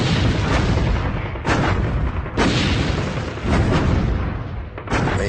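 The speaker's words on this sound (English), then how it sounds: "And so I opened fire with 18 105mm howitzers." Artillery barrage from 105mm howitzers, a dense, loud, continuous rumble of booms with several heavier blasts landing at irregular intervals and no voices.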